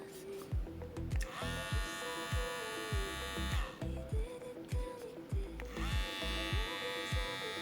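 Xiaomi electric hair clipper running close by with a continuous, loud buzzing drone that shifts in pitch a few times over its length.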